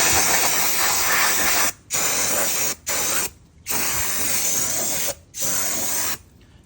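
Brake cleaner is sprayed in loud, close hissing blasts onto the front brake caliper of a Kawasaki EN650 Vulcan 650 S motorcycle, with four short pauses breaking up the bursts.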